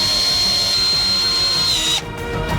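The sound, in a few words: power drill driving screws into a mold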